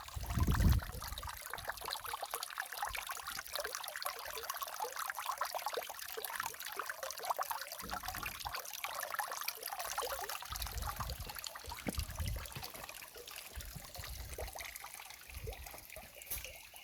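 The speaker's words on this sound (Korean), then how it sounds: "잠시 이 물 흐르는 소리 감상 좀 해보시죠" Water trickles and flows continuously from a cold spring at Dorisa temple, a steady splashing babble with occasional louder gurgles.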